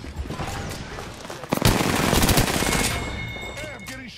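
Rapid automatic gunfire in a battle royale video game hits the player, a dense close burst of shots that swells in the middle and then tapers off, with game sounds and chirps around it.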